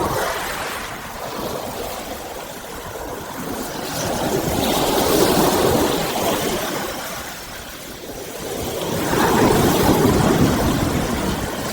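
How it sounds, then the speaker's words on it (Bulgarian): Sea waves breaking on a sandy shore, the surf swelling and receding in slow surges, near and steady with no voices. "Точно там, където се разбиват вълните в пясъка"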